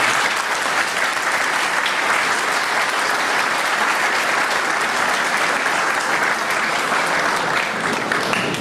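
Steady, loud applause from a conference audience greeting a lawyer speaker, a dense continuous wash of clapping that holds evenly for several seconds with no voices over it.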